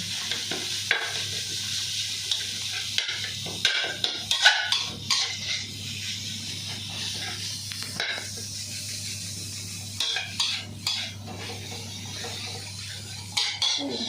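Meat sizzles as it is stir-fried in a pan for a Thai dry-fried dish, a steady hiss broken by repeated scrapes and clinks of a spatula against the metal.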